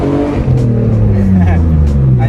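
1999 Nissan Skyline GT with a loud Tomei exhaust being driven, a strong, close engine and exhaust drone that rises and shifts in pitch, with someone talking over it.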